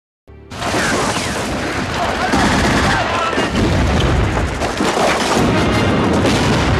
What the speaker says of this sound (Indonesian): Pasukan Uni Soviet terus menembaki prajurit Jerman dengan senjata mesin